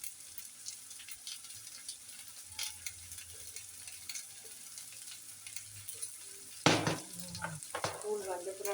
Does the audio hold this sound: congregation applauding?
no